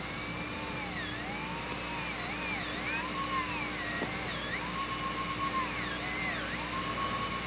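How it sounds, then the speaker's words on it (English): An inverted cone diamond bur on a high-speed dental handpiece cuts a pin off a metal dental casting, a steady close whine with sweeping pitch shifts and constant background hiss. "take a inverted cone diamond and cut that pin off down to the casting"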